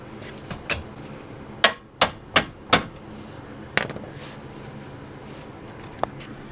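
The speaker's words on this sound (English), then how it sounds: "And then we'll tap on the top of the bolt." A hammer taps the top of a sway bar end link bolt: a few light knocks, then four sharp, evenly spaced metallic strikes close up, followed by a couple of softer taps.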